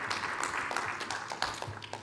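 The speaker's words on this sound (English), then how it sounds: "a big round of applause for that as well" An audience at an inaugural function claps in a faint, scattered round of applause, individual hand claps audible as irregular sharp taps against a quiet room.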